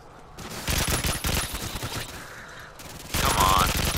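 Automatic gunfire from Modern Warfare 2 multiplayer on the Sub Base map rattles in dense bursts, with a short pause in the middle before a louder close burst at the end.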